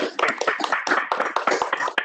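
A round of applause in a virtual board meeting, a few people clapping close to their microphones in irregular, uneven bursts.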